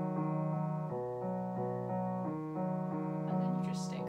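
Left-hand piano part of a song in a piano arrangement, a sequence of sustained low chords changing roughly every half second to second, played alone and close.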